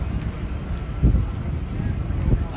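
Steady wind blows outdoors, rumbling against the microphone as low buffeting gusts with a few stronger puffs, at a Great Race car rally stop in Nocona, Texas.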